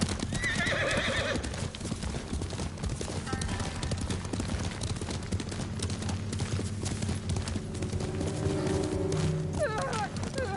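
Horses gallop and neigh in the samurai video game Ghost of Tsushima, with a continuous drumming of hooves, whinnies near the start and end, and a dense backdrop of game sound.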